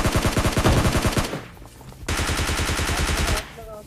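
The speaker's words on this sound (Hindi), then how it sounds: "मेरे टीममेट को अब कवर फायर की जरूरत है, जो कि मैं अब देता हूं।" Rapid automatic gunfire in PUBG Lite, laid down as cover fire: two loud, fast, continuous bursts separated by a brief pause, close-up and without talking.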